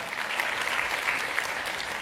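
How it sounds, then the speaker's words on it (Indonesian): Loud applause from a church congregation during a sermon, a steady dense wash of clapping that holds at even strength throughout. "Beri tepuk tangan yang meriah buat Tuhan."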